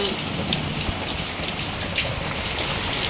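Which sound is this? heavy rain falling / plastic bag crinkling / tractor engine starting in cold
heavy rain falling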